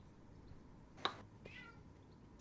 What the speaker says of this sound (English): The cat is meowing like crazy, sir.